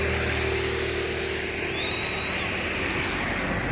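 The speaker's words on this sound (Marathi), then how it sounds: "खाली एक मांजराचं पिल्लो आहे" A single high, thin meow from a kitten found in a forest rises briefly over a steady background hiss, fairly faint and drawn out for about half a second.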